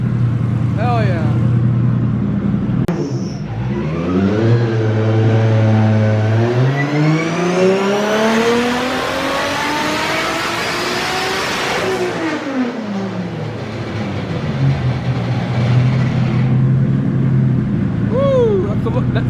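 A fully built 1.5JZ engine revs hard on a dyno, climbing in a long sweeping pull to a loud high-rpm scream, then dropping back to a rough idle, close and loud.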